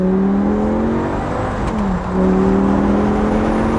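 Loud, close engine roar from an Audi R8's 5.2-liter naturally aspirated V10 that drops briefly then revs back up to a higher pitch, a deep, throaty growl with no voices.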